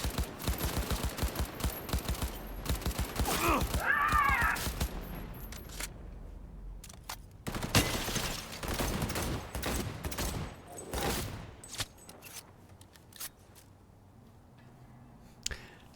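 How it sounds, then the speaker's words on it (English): Rapid bursts of pistol fire in Cyberpunk 2077: Phantom Liberty, dense volleys of shots packed through the first half, then scattered sharper reports with quieter gaps, loud and close. "Maybe I should use the pistol in this case."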